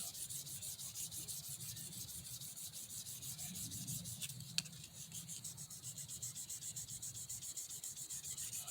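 Knife rivets being buffed with Mother's polish produce a steady, even rubbing hiss with a fast repetitive texture, continuous and close, with one sharp click midway and no talk.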